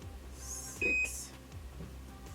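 A single loud electronic beep from an automatic hair curler's timer sounds once, close up, over a quiet room background.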